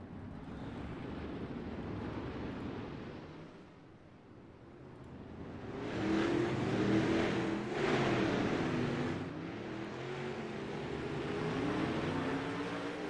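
360 winged sprint cars run warm-up laps on the dirt track at Fairbury, engines droning at a distance, then swelling louder as they pass nearer and fading again.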